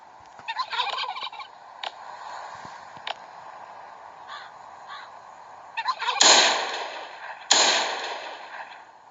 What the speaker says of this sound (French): Toujours avec tes petites glou glou glou et tes petits